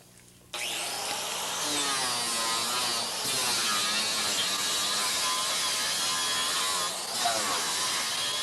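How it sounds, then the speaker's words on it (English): A power grinder cuts into fiberglass inside a boat where fish boxes were removed, starting abruptly and then whining loudly and continuously with shifting pitch as it bears on the surface. "it's time to start the grinding process."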